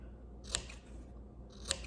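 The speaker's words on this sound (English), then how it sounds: "we're gonna take our scissors and we're going to, again, clip to the stitch" Scissors snip into a fabric seam allowance up to the stitching while sewing a cloth face mask: two quiet, crisp clips about a second apart against a faint background.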